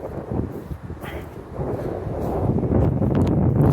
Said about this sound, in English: It's a little chilly, a little windy,